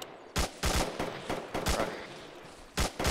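Gunfire from the ArmA 3 video game in a Navy SEAL co-op urban battle: a run of sharp, loud shots in quick bursts, some doubled, spread across the clip with short gaps between them.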